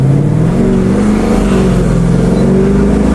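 An LS-swapped VH Commodore accelerates hard and breaks traction, its V8 roaring loud and close with a steady rising drone throughout.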